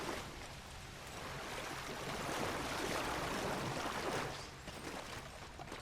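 A small creek in Red Dead Online flowing steadily, a soft broadband rush of water that swells slightly in the middle, faint and continuous with no voices.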